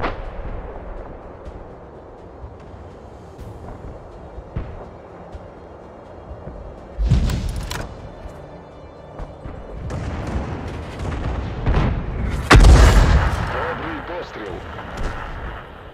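Heavy booming gunfire from an SU-8 self-propelled gun in a tank video game, with two or three loud blasts and rumbling tails over a low engine drone, plus crew voice lines.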